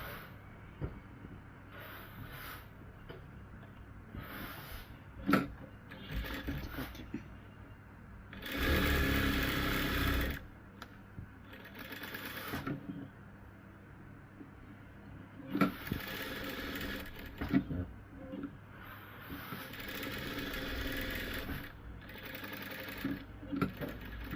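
An overlock sewing machine stitches fabric in a home tailoring setting, running in short, uneven bursts with brief pauses and one longer, louder run near the middle, fairly close and with no voices over it.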